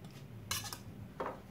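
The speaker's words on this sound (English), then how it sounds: "Give that a stir" A spoon clinks and scrapes against a bowl while carrot salad is stirred: a couple of quick, fairly faint clatters in a quiet kitchen.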